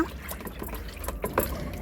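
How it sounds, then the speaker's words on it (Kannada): Tea powder, coffee powder and jaggery being stirred into water for a homemade plant fertilizer, giving soft liquid swishing and trickling with a few light clinks, close and steady throughout. "ಇದನ್ನೆಲ್ಲ ಚೆನ್ನಾಗಿ ಹೀಗೆ ಮಿಕ್ಸ್ ಮಾಡ್ಕೊಳ್ಳೋಣ."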